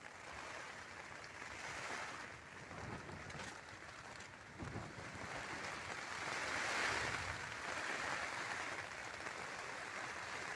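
Rainwater pours steadily through a hole in a torn, patched roof during a storm, a continuous broadband wash of running and splashing water, fairly faint and even throughout, with no voices.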